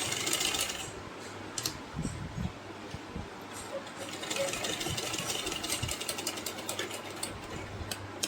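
A domestic sewing machine stitches baby frock fabric and elastic, a steady fine mechanical whirr with light rattling, broken by a few soft knocks and handling sounds.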